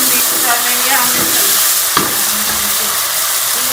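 Tomato paste with garlic-ginger paste and green chillies stirred and fried in hot oil with mustard seeds for an aloo chana sabzi, giving a steady close sizzle with scraping spoon strokes and one sharp clink near the middle.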